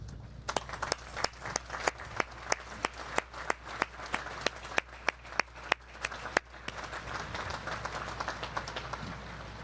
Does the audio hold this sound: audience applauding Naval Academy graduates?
yes